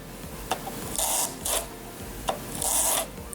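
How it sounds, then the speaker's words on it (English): Fingerboard wheels rolled back and forth over sticky tape, giving close, raspy rolling bursts in several strokes with soft clicks between them. "basically you just roll them back and forth a couple of times like this"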